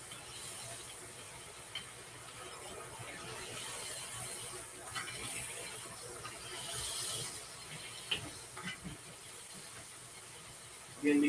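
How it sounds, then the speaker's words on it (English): Hot grease spits and sizzles on a griddle as burgers are smashed with a long metal spatula, a steady hiss broken by scattered small pops and occasional scrapes. "be careful that popping grease. It is hot."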